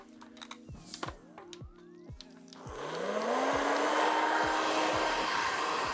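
A handheld blow dryer drying hair in a busy salon starts up partway through and runs as a steady, loud whoosh, after sharp clicks and taps at the start.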